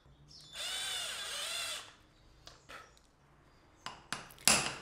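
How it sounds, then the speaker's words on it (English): A power drill whirs for about a second and a half while countersinking a punched center in very hard wood, followed by a few short sharp clacks and tool knocks close by. "Here I'm just marking the centers so that I can punch and countersink them."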